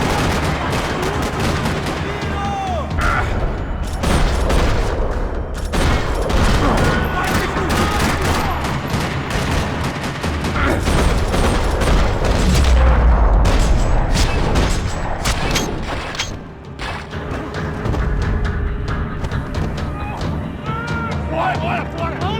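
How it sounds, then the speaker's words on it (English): Dense gunfire rattles across a parking lot in the video game Max Payne 3, with rapid automatic bursts, heavy booms and continuous shooting that stays loud throughout, with a brief dip near the end. "Another parking lot rattling with gunfire."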